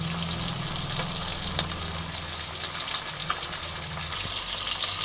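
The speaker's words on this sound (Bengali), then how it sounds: "আমি সর্ষের তেলে কিন্তু মাছটা ভাজছি" Pieces of small fish fry steadily in mustard oil in a pan, a constant close sizzle and crackle with occasional faint pops and no talking.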